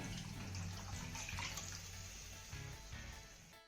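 Water pours steadily from a glass into a pot of dal for a hot winter dish made with millet flour, a continuous close splashing stream.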